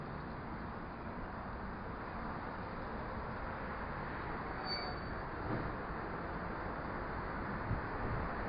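Train pulling in along platform one at a station, a steady broad rumble of wheels and rolling stock with a brief high squeal partway through, heard from the platform.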